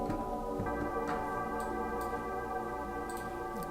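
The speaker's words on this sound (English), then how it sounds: "These bells are a preset from Operator, which is a synth that comes with Ableton" Synthesized bell tones ring out in a sustained, shimmering chord with light ticking accents, steady and moderately quiet.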